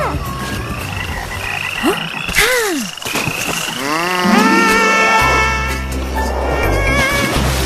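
Frogs in an animated story croak loudly and continuously, with rising and falling warbling calls over a dense night-forest chorus, some calls sweeping up and down, the layered noise growing thicker toward the end.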